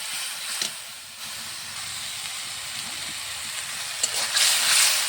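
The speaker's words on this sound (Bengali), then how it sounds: "এই মশলাটা সুন্দরভাবে কষিয়ে নিলাম।" A paste of ground ginger, cumin, garlic and onion fries in a pan with a soft, continuous sizzle and hiss, growing a little louder toward the end.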